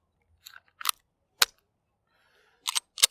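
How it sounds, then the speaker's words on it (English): A magazine is slapped into a Smith & Wesson M&P 9 subcompact pistol, heard as a handful of sharp, isolated metallic clicks and clacks spaced apart in an otherwise quiet clip. "You gotta really hit that mag to get it up in there"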